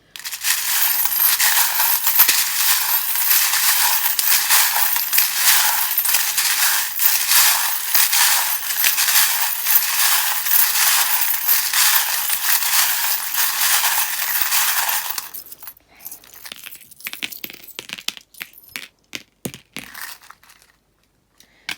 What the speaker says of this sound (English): if you don't like the sound of the charms, please do turn down your volume now. They can be quite loud.